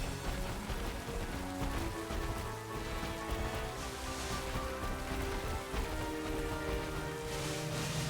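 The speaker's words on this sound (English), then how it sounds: "It's still raining?" Steady rain falls in the video game Pokémon Scarlet as a constant hiss that blends with sustained background game music and tones, lasting throughout at a moderate, unchanging level.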